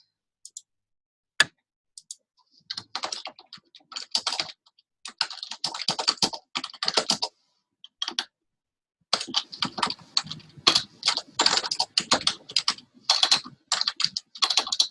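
Someone types on a computer keyboard: close, crisp key clicks in rapid irregular bursts, separated by short pauses, with no talking.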